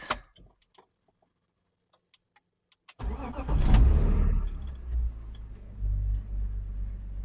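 A car engine with a cone intake filter cranks and catches after a few quiet seconds of faint ticks, heard from inside the cockpit, then settles into a steady, low idle rumble.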